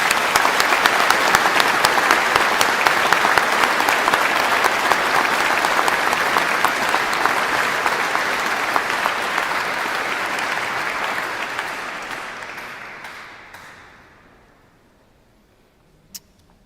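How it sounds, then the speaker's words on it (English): Sustained applause from a large audience at a university graduation ceremony, loud and dense for about twelve seconds before thinning out and fading to near silence, with a single sharp tick at the very end. "Can I ask you also to give a big round of applause to those receiving their degrees in absentia today?"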